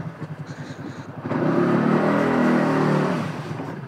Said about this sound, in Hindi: भाई थोड़ी सी घुमाते हैं अपनी एंटार्क,